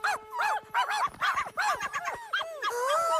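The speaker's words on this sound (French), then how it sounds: "Les bébés chiens!" Cartoon puppies bark, yip and whimper in quick overlapping bursts, high-pitched and close, with no talk over them.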